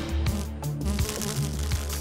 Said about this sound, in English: Incoming. A bee.